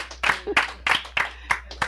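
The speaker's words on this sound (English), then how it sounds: "Round of applause for Phil Falcone." Sparse, evenly spaced hand claps, about three per second, from a small audience at an investor education class, with little else between the claps.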